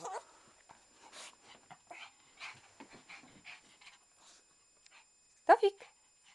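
A Shih Tzu dog whimpers and pants in soft, broken bursts close by, with a sharper yelp near the end, while a person talks to it throughout.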